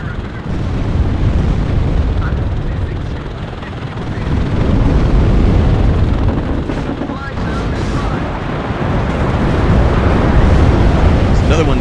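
Artillery explosions rumbling in the combat game Warno, a loud continuous roar of blasts and engine noise running throughout under a voice.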